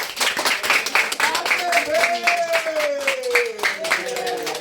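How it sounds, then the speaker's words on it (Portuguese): At a house worship service in the Alagoas backcountry, a small group claps for Jesus with rapid, loud, uneven claps throughout, while a voice speaks or sings over them. "Vamos aplaudir Jesus!"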